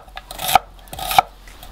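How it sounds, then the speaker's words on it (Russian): Knife cutting onions into thin strips on a board, two distinct slicing strokes about half a second apart, close and clear with no talk. "Лук буду нарезать перышками."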